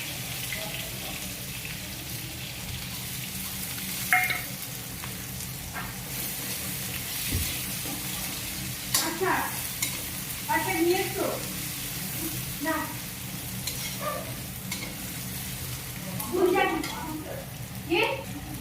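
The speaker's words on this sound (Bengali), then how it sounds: "পেঁয়াজটা ভালো মতো করে ভেজে নেব" Onions and chilies fry in a kadai with a steady, moderate sizzle, broken by scattered clinks and scrapes as the spatula stirs them.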